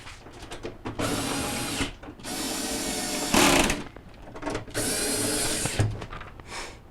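A power driver reinstalls 1/4 inch screws on the back panel of a Frigidaire refrigerator, whirring in several sustained bursts of a second or two each with short pauses between, close and loud, no speech.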